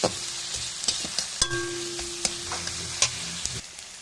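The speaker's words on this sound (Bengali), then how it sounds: "রসুনটা একটু ভালো করে ভাজতে হবে নাহলে রসুনের কাঁচা গন্ধ থেকে যাবে" Garlic fries in a little oil with a steady hiss and sharp spatula scrapes and taps scattered across the stretch, a ringing metallic note briefly in the mix, and no one talking.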